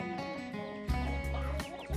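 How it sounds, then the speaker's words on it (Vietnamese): A flock of chickens returning home, with clucking and rooster-like calls over steady background noise, nearby and moderately loud, with a louder burst midway. "Đàn gà những cái này bắt đầu về rồi đấy nhờ."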